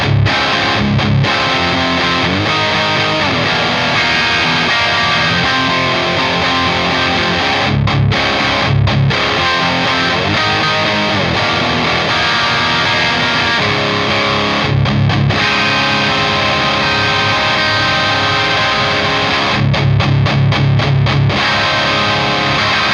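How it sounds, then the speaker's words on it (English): An ESP Edwards LP-CTM electric guitar with Gibson 498T and 490 pickups, played through a Synergy amp, plays loud, heavily distorted riffs and chords with brief choppy stops, cycling through pickup combinations. "show you some quick tones with this guitar into the Synergy amp"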